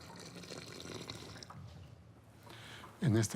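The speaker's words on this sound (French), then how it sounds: "À chaque fois qu'on remplit la bonbonne sans hydro-rétenteur, l'eau part et la terre reste sèche." Water poured into a jug of soil without water-retaining gel: a faint trickle and splash under a low background, rising to a louder gurgling pour at the end.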